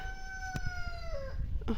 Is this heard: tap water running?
no